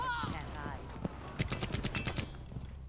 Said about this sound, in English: They're all just standing right there shooting at me.